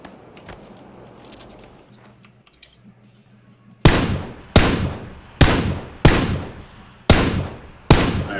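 Gunfire in the video game PUBG, about six loud single shots at a slow regular pace, each with a long ringing decay, after a quieter stretch of faint distant rattle and ambient noise.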